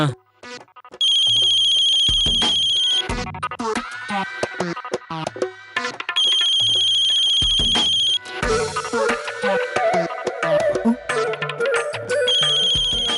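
A phone ringtone plays in repeated electronic bursts, about three rounds, with other busy sounds and noises filling the gaps between rings.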